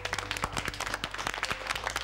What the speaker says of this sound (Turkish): Arkadaşınızı alkışlayın çocuklar.